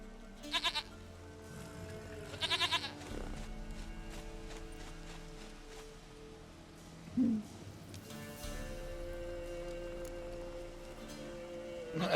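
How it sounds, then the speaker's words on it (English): A goat in The Witcher 3 video game lets out two short, wavering bleats close by early on, over a steady hum of game ambience and music, with no one talking. "Goat of mine, dearest, sweetest goat."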